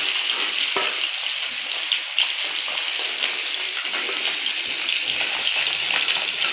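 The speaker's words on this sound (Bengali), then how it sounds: "খুব হালকা ভাজা দিচ্ছি," Koi fish frying lightly in a pan of oil during village cooking, a continuous close bubbling sizzle with a few faint stirring scrapes, heard alone without talk.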